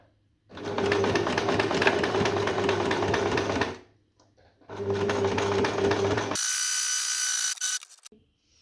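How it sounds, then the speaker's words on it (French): Sewing machine topstitching the lining of a fabric wallet, running in two steady bursts of about three seconds each separated by a short pause, then a brief higher-pitched whir follows. "on va passer une surpiqûre ici"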